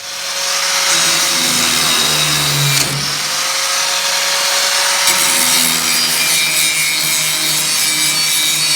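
The ripped metal edge of a garage door is ground down with a power tool, a loud, harsh, continuous grinding close by whose pitch dips briefly as the load shifts.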